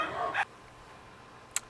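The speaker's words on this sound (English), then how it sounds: "there's my dog right now" A pet dog in a home garden gives a single short bark, close and moderately loud, followed by quiet and a faint brief yip.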